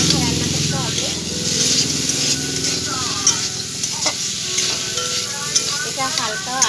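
Drumstick stalks stirred into a frying mustard, poppy seed and garlic paste, a close sizzle with scraping spatula strokes and occasional clacks against the pan while a voice talks over it.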